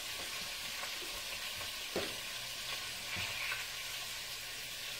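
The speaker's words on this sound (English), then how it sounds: "I like to heat up food on the stove." Leftover spaghetti reheats in a pan on a stovetop, giving a steady close sizzle and frying hiss with a few soft stirring scrapes, no talking.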